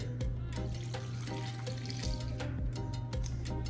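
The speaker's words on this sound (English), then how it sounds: "I'm gonna pour this into the banana mixture." Almond milk, three-quarters of a cup, poured into a vegan gluten-free banana bread mixture, a steady close liquid stream running for several seconds with no talking.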